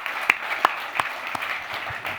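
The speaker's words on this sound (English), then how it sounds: "I think that deserves a round of applause." Audience applause at a club lunch fireside chat, a steady patter of clapping from a crowd lasting a couple of seconds, with a few sharper claps standing out near the start.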